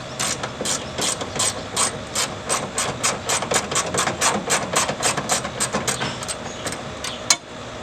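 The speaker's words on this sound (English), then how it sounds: "8mm socket or wrench." Rapid ratchet wrench clicking from an 8mm socket backing off starter solenoid nuts on a Ford F-series truck, steady bursts of close, bright pawl clicks with short pauses between strokes.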